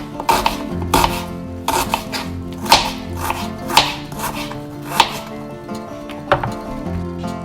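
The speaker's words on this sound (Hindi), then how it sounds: "आप इस तरह से सारे जो 3 अदद अनियन है, आप उनके बारीक बारीक स्लाइस काट लें।" A knife slices onions thinly on a cutting board, with sharp, close chopping strokes in an uneven but steady rhythm of about one or two cuts per second.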